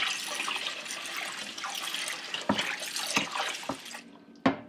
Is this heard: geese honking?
no